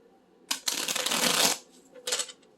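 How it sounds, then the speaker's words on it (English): A deck of tarot cards is shuffled up close: a long rattling riffle of about a second, then a short second burst of shuffling, with no talking. "Oh, my shuffling."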